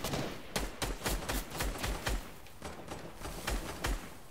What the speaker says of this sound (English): there's a guy shooting from your left, James.